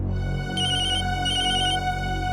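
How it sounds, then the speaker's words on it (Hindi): A telephone rings in two trilling bursts under a steady droning musical background, bright electronic bell tones repeating rapidly for about half a second each, with no talk. "आपका फोन बज रहा है।"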